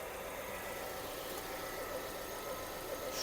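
A Hyundai Tucson 2.0 engine idles steadily with a low, continuous rumble and faint mechanical hum, fairly quiet and unchanging throughout.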